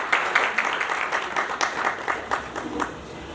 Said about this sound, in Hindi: इनके लिए एक बार जोरदार तालियों का इनका स्वागत करिए